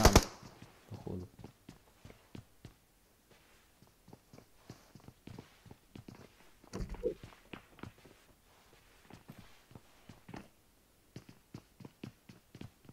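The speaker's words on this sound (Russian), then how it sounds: "Слышишь шаги, да?" Footsteps from the battle-royale game PUBG Mobile: a long run of soft, rhythmic thuds and scuffs, mostly faint and close, with a louder burst of impacts around the middle.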